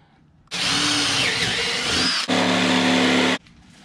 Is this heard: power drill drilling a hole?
yes